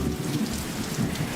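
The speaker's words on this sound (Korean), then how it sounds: "하늘에 먹구름이 있고 비가 내리고 있네요" Steady rain pours down with a low, continuous rumble of thunder beneath it, forming an even stormy wash with no voices.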